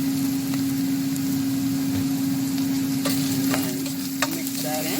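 Onions fry in a pan on a stove, a steady close sizzle throughout with a few light stirring clicks and scrapes, no voices.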